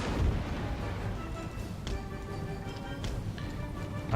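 Distant cannon artillery fire booms in an Empire Total War battle between line infantry and American forces, a few muffled thuds and sharp reports scattered over a low, rumbling battlefield din.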